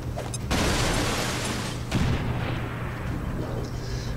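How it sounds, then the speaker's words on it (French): A grenade blast in the turn-based game XCOM 2 lands as a loud, booming explosion with a second heavy impact and debris rumble that fades away. "Et avec cette grenade, tu détruis sa couverture et tu lui fais de bons dégâts."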